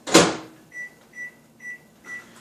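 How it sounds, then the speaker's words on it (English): A microwave oven runs while melting two tablespoons of butter in a mug: a loud thump or door close at the start, then four soft, evenly spaced beeps or hums in a quiet room, with no talking. "take those 2 tablespoonfuls of butter in your mug and pop them in the microwave for, again, 30 seconds"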